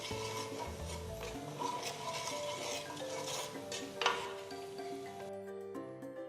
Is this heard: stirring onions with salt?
yes